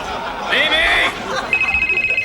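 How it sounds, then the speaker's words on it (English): A telephone rings in a room, a short electronic trill followed by a sustained ringing tone, with people talking around it. "Pick up the damn phone."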